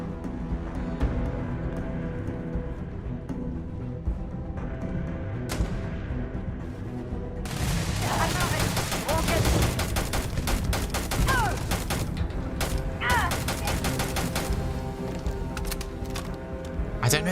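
Rapid automatic rifle gunfire in the Starfield video game, a dense stream of loud shots that keeps going throughout and grows heavier partway through, with someone talking over it.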